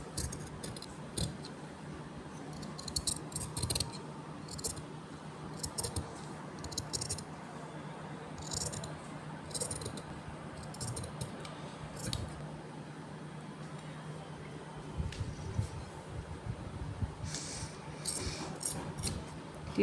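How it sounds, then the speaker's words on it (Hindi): Scissors snipping through fabric for a baby bib at a sewing table, a steady run of soft crisp cuts and clicks over low background hum, with no talking. "मार्जिन के साथ काटना है अपने"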